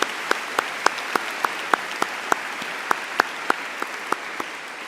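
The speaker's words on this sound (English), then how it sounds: "let's give a round of applause." Audience at an employee start-up meeting applauds, heard as a thin, evenly spaced series of crisp claps at moderate distance, steady for several seconds with no talk over it.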